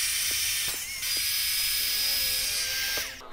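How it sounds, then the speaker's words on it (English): Electric rechargeable air duster running in vacuum mode to clean dust inside a PC, a loud, steady high-pitched whine with a few clicks and bumps as the nozzle moves around. "I'm going to vacuum up all this dust right here"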